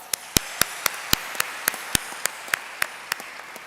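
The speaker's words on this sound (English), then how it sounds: "A round of applause." Sharp, distinct hand claps ring out one at a time in a slow, even rhythm at an awards ceremony, about a dozen in all over a faint background hum.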